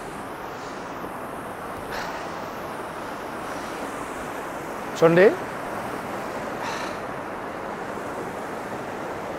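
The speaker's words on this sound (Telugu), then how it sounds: "హిమాలయ పర్వతాల నుంచి వచ్చే వాటర్ ఈ రాళ్ళ మధ్యలో పడి వెళ్తుంది" A Himalayan mountain stream near Manali rushes over rocks in a steady, broad wash of water noise. A voice briefly speaks over it midway.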